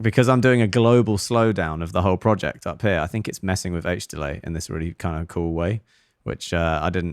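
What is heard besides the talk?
None of the usual background noises is heard.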